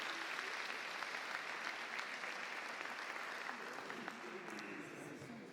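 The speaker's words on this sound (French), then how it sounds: "Bravo, on peut les applaudir." An audience at a charity concert in Vannes claps together in steady, moderately faint applause that fades slightly toward the end, with no voices over it.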